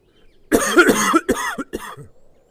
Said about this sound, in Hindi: तभी चाचा खांसते हैं